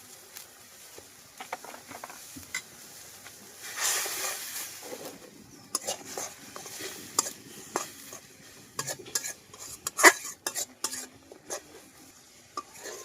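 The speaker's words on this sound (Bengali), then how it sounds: "মশলাটা নেড়েচেড়ে মিশিয়ে নিয়েছি" Garlic paste, salt, chili powder, turmeric and ground coriander are stirred in a pan, with a spoon scraping and clinking against the metal in irregular strokes and a faint sizzle underneath. Several sharper scrapes stand out, and no one speaks.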